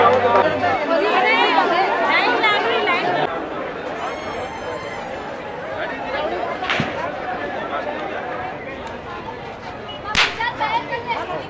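Dense crowd chatter and babble fill the entrance gate of the Brahma temple at the Pushkar fair, a steady hubbub of many voices with occasional sharp nearby cracks and bursts rising over the din.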